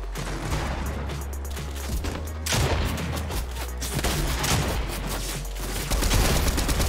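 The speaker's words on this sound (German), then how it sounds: "Hört auf uns zu schießen." Rapid bursts of shotgun fire from the video game Fortnite crackle continuously, dense and loud, with overlapping shots throughout.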